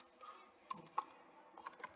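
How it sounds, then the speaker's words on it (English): A few soft, scattered clicks of keys being pressed on a computer keyboard, quiet and close, with brief pauses between the taps. "If I could try typing it here."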